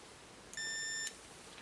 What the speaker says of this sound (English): Go in continuity mode or beeping mode